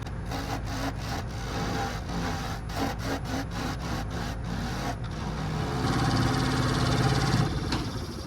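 A gouge scrapes against a spinning driftwood burl on a running wood lathe in repeated rhythmic cuts, then a steadier grinding whine builds toward the end.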